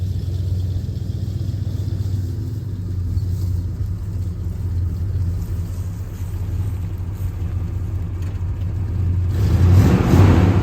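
A 1972 Chevrolet C20 Longhorn pickup truck driving, its engine a steady low rumble and whir with road noise throughout, swelling louder near the end as it accelerates.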